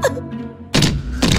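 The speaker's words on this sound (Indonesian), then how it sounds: "Kotak itu hancur." A box is smashed in two loud, crunching thuds about half a second apart, each a short burst of breaking noise after a quieter lead-in.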